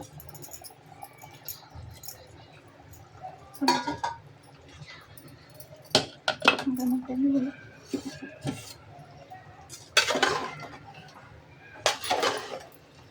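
Utensil clinking and scraping against a pot while stirring prawn and potato curry, in irregular bursts of clatter amid low kitchen background, with a voice speaking faintly.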